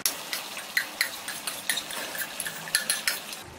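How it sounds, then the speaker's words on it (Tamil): Rice added to a boiling pot of vegetable biryani, with a series of soft splashy clinks and scrapes of a utensil against the vessel, close and fairly quiet. "அதனால இப்போ வந்து நம்ம இந்த அரிசியை சேர்த்துப்போம்."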